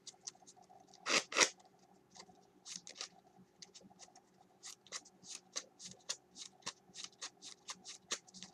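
Quick riffling of a 45-card Lightsworn trading card deck, a loud burst near the start followed by a run of soft, rapid card flicks and snaps.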